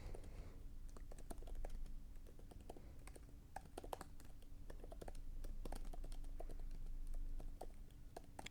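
Typing on a computer keyboard while writing a blog article, a quiet, steady stream of close, crisp key clicks in irregular quick runs.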